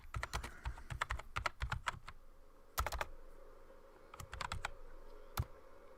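Fingers type on a computer keyboard in quick bursts of clicking keystrokes, up close, with short pauses between the runs and no voices.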